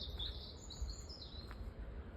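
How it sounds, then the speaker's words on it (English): Robins singing outdoors on a walk near Coombe Bottom, Ventnor, Isle of Wight: faint, high chirping phrases repeat over steady low rumble from the background, continuing throughout. "what can I hear? Robins."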